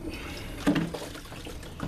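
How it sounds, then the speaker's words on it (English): Water running and splashing into an O-Cedar EasyWring spin mop bucket nearby, a steady pour with a brief louder surge. "put the water in there, right?"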